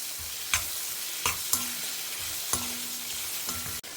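Onions frying with drumstick pieces, chili powder, turmeric and salt in a pan, a steady close sizzle broken by several sharp scrapes and clacks of a stirring spoon against the pan.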